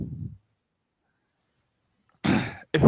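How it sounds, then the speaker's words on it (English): Person with flu coughing, a short cough followed after a pause by two harsh throat-clearing coughs, close and loud. "when I keep coughing, no, bear with me"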